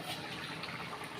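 Tamarind water pours into a cooking pan during preparation of a prawn dish, a brief, soft, steady gush of liquid heard close and alone.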